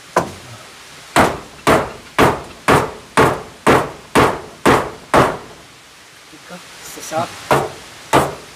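A hammer drives nails into wood while a shelter is built in a forest, about a dozen sharp, evenly spaced blows in a steady rhythm, a short pause, then a few lighter taps and two more firm strikes.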